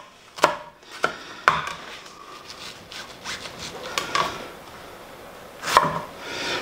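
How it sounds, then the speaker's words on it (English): A knife dicing white onion on a cutting board: a few sharp, separate chops with soft scraping and rubbing between them, close by and quiet. "we're going to need some diced up onion"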